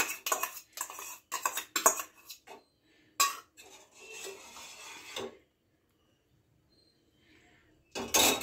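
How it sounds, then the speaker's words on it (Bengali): Yogurt stirred into milk in a bowl, heard as a run of close, clinking scrapes of a spoon against the dish in short bursts, then a quiet pause before one more burst of clatter. "এবার এখানে আমি দিয়ে দিচ্ছি দুধটার মধ্যে দইটা"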